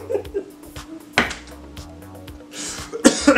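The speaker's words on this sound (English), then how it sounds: "That was a laughing cough." A person's laughing cough, a brief rough burst near the middle followed by a breathy exhale, close to the microphone among small clattering noises.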